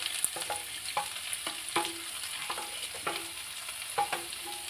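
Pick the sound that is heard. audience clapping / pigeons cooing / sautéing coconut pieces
sautéing coconut pieces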